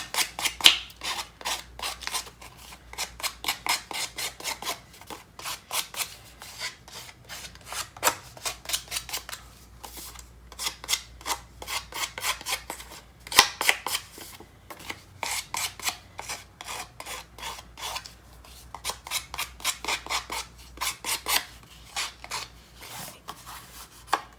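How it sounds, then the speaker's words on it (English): The edge of a pair of scissors scrapes and roughens a paper tag in quick, rhythmic rasping strokes. It sounds close and continues in bursts throughout, with no talking. "So just use the edge of your scissors."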